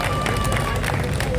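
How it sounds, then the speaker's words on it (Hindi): Audience clapping at a Hindi poetry recital goes on throughout, a continuous crowd patter of hands that stays steady and fairly loud with no pause. "आपकी तालियां कमजोर हैं, काफी कमजोर है"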